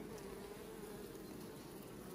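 Honey bees buzz around a hive in a steady, continuous drone, faint and close, with no voices.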